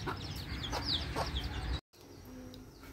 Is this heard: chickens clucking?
yes